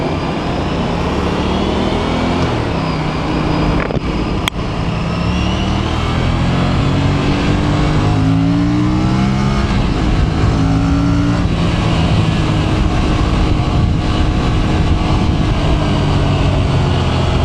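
A 2024 Aprilia RS 457 motorcycle engine in sport mode climbs through rising revs, a loud, close buzzing drone that sweeps upward steadily across the whole stretch.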